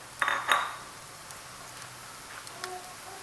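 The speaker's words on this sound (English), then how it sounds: "I'm going to give them a little stir" Onions and garlic stirred in a pan, heard as two brief clinks and scrapes of a utensil against cookware near the start, followed by quiet background with faint occasional taps.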